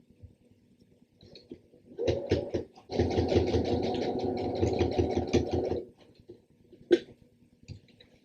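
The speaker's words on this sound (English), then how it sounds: "you're just going to tack that down with a straight stitch very close to the top." Sewing machine running a straight stitch on a fabric jewelry roll travel case: a short burst, a brief pause, then about three seconds of fast, even, close stitching, with quiet clicks before and after.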